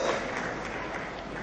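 Audience clapping at a talk during a national retreat, a dense, continuous patter of many hands holding steady through the short stretch.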